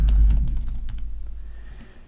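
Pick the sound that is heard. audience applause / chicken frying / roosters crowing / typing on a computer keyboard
typing on a computer keyboard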